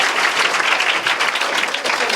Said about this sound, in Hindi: अनिल सिपाही के लिए एक बार जोरदार ताली होना चाहिए।